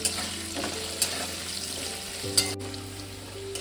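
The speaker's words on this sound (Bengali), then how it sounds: "আলুটাকে ভালো করে একটু ভেজে" Potato pieces seasoned with salt and turmeric fry in a pan with a steady, close sizzling hiss and a few soft knocks of stirring, with no voices.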